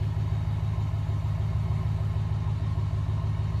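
Ram van engine idling with dual exhaust, a steady, close, low rumble that holds evenly throughout with no talking over it.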